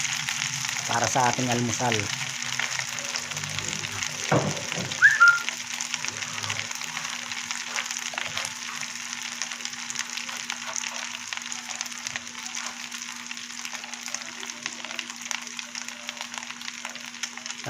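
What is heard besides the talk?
fried rice frying in a pan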